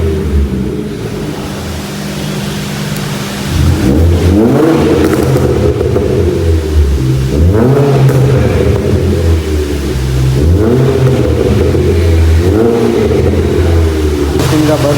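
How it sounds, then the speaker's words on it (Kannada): A car fitted with a full exhaust system and a stage tune revs hard several times close by, each loud rise in engine pitch falling back to a deep, rumbling idle in between. "ಅದಕ್ಕಿಂತ ಮುಂಚೆ ನಾನು ನಿಮಗೆ ಎಕ್ಸಾಸ್ಟ್ ಸೌಂಡ್ ಕೇಳಿಸ್ತೀನಿ"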